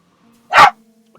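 A single loud, close dog bark lasting about a quarter second, heard in the video game Blacksmith Master over a quiet background hum.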